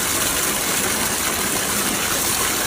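A Masaki MK-850 automatic water pump with cover runs steadily while water gushes hard and continuously, a loud broadband rushing that fills the short stretch with no talk.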